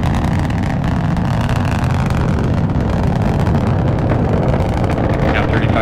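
Rocket launch with three boosters at full thrust, heard as a steady, dense broadband roar with low rumble that holds constant and loud throughout, with wind-like buffeting and no distinct breaks.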